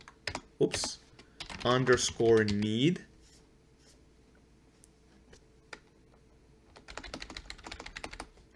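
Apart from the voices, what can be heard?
typing on computer keyboard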